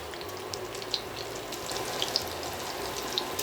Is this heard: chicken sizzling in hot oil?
yes